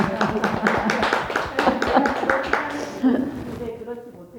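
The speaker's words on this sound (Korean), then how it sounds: "와, 박수." An audience claps at a Buddhist Amitabha Sutra study session, with a run of quick claps heard under ongoing talk that fades out near the end.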